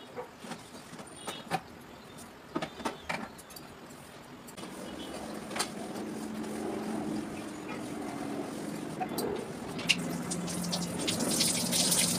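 A kitchen tap runs while bottles are washed: a few scattered clinks and knocks, then a steady rushing stream of water that builds and continues to the end.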